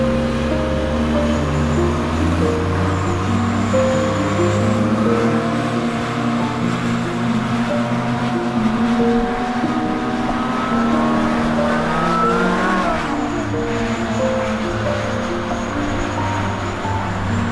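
VW Golf 1 with a G60 engine revving: a loud, close, continuous engine drone with throttle blips rising and falling, a sharp climb and drop near the end, with no voices over it.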